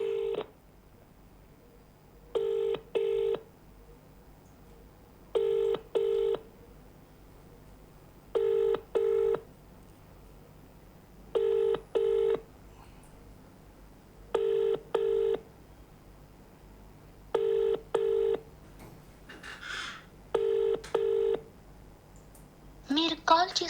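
Ringback tone on a live phone call to a student, repeating in short paired bursts roughly every three seconds, steady and clear across the whole stretch, with brief faint noise near the end.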